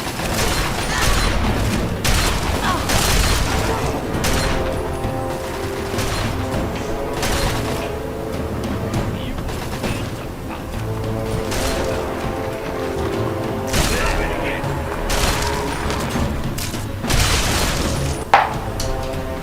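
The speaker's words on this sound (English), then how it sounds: "switching to the shotgun now" Repeated shotgun blasts in Fallout 3's Point Lookout DLC, loud sharp reports spaced a few seconds apart amid game music and clatter, with no talking.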